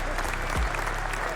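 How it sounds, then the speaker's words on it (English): Applause sound effect played on a live stream, a short burst of crowd clapping with a voice briefly underneath. "What about the round of applause?"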